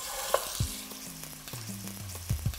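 Beef shank browning in oil in a pot, a quiet steady frying hiss with a few soft knocks as the meat is turned, and a faint tonal hum in the background.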